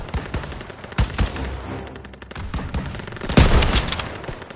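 Gunfire rattles through a Call of Duty: WWII battle, with sharp rifle and machine-gun shots popping in irregular bursts, some close and loud, others farther off, over a noisy combat backdrop.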